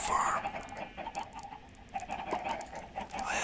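Chickens in a Minecraft egg farm give soft, scattered clucks and game sounds at low volume, quiet and close.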